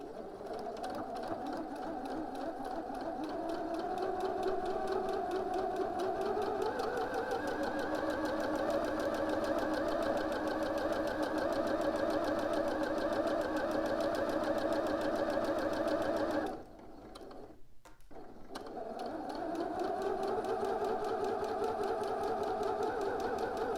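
A sewing machine runs steadily as it back stitches through fabric for a McCall's 7908 bodice, its motor humming loud and continuous with a brief pause near the end before stitching resumes.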